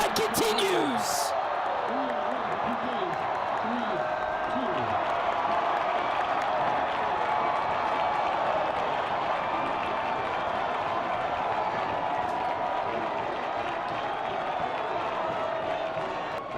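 A college soccer crowd at Jerry Yeagley Field cheers loudly and continuously after a penalty save in a shootout, with a dense roar of shouting and applause that holds steady throughout, and a few whistles at the start.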